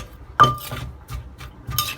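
A mortar and pestle pounds papaya salad with fish sauce and chilies, giving a few irregular close thuds with ringing clinks, one sharp knock followed by softer strikes.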